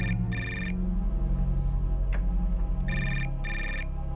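A telephone rings in two distinct electronic bursts separated by a short pause, clear and close over a low steady background hum, with no speech during the rings.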